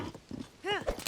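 A horse in the Zelda: Tears of the Kingdom video game, with a few clip-clop hoof steps followed by a short whinny, close and clear, while a person talks over it.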